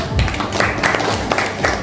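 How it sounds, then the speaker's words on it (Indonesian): A classroom of students claps together in a short burst of scattered, lively applause, close and loud, with some voices mixed in. "Tepuk tangan."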